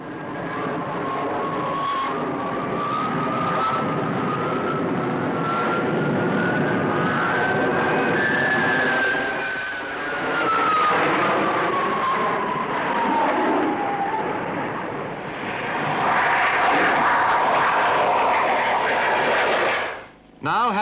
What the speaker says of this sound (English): Let's follow the fighter bombers in a formation roll, flying as if linked by invisible threads, while earth and sky revolve around.